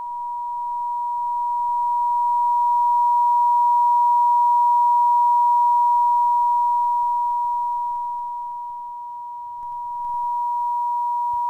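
A steady, pure 960 Hz sine tone holds unbroken for about eleven seconds, dipping slightly in loudness near the end, with nothing else heard.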